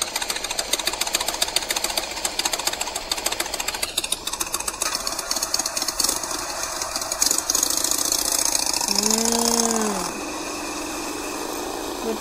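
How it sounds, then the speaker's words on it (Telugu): A motorcycle engine running, a rapid rattling putter that grows steadier and louder toward the end, with no voices. "కరెక్ట్, మోటార్ సైకిల్ కదా."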